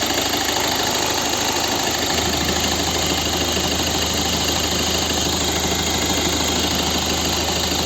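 Volvo V50 facelift 2011 with a 1.6 HDI diesel engine revved while still cold, giving a loud, steady, close-up engine roar that holds at a constant level throughout, with no voices.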